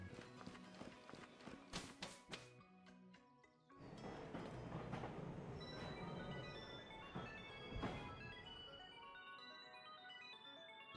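Arrival of a train at a station in the video game Pokémon Sword/Shield, bound for the Isle of Armor: bright chiming tones and steady rumbling game music and effects, fairly loud and continuous, with a sharp burst near the start.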